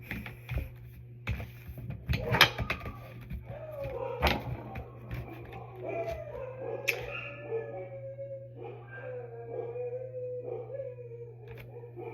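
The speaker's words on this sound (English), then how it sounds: "Why are my dogs so loud? What are they barking at?" Several dogs bark and yip excitedly, with a few sharp cracks early on and whiny howls that trail on over a steady low hum.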